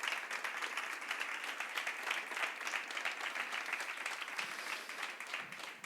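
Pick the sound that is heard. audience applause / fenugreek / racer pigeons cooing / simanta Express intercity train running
audience applause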